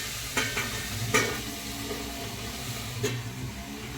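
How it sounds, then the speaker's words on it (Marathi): Onions cooking in a covered pan over medium heat, a soft steady sizzle with a few light clinks and stirring scrapes near the start and again near the end. "कांद्याला आपल्याला दोन मिनटं शिजवून घ्यायचं झाकण लावून गॅस आपण मध्यम आचेवरच ठेवणार आहे"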